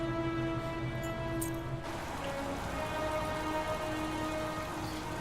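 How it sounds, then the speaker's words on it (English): Steady rain falls throughout the video game Heavy Rain, a continuous hiss over low tonal game ambience, with no one talking. "Well, it's raining."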